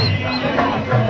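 Crowd hubbub at the Urs of Hazrat Charag Ali Shah Baba, a dense murmur of many voices with someone talking close by over it.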